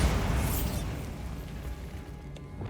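A Bombarda spell blast in Hogwarts Legacy erupts at the start as a heavy, rumbling boom that slowly decays into lingering debris and ambient noise.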